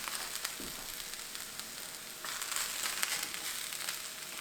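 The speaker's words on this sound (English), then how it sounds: "And then let's throw the potatoes in." Potatoes tossed into a crowded skillet, frying with a faint, steady crackling sizzle that grows slightly louder and busier partway through.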